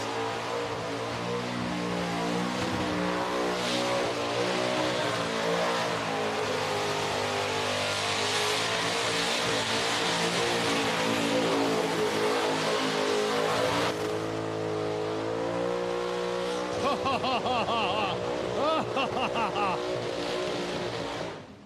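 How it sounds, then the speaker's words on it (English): A loud, high-revving car engine roars continuously, stuttering and bouncing off its rev limiter, with crowd noise around it at the Summernats car festival in Australia. "You wanted a limiter bash."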